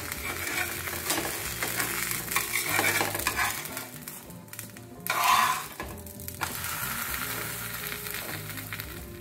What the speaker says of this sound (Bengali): যখন গোলা রুটিগুলো ভাজবে, একদম গ্যাসটা মানে কমিয়ে ভাজতে হবে